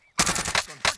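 Automatic gunfire in the video game Warzone cracks out in a loud, close burst of rapid shots, followed by a brief gap and one more sharp shot.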